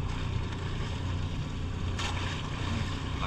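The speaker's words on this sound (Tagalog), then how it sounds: "Lakas na Agos mga idol." Strong sea current and waves surge steadily around a fishing boat at open sea, a continuous loud wash of water and wind with no voices.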